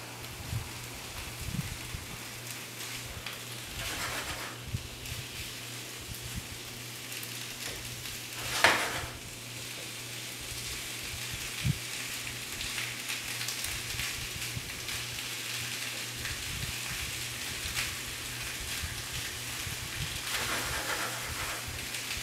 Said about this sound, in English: Make sure the onions and the garlic just get a little bit warm. Touch the saute pan for a minute or two.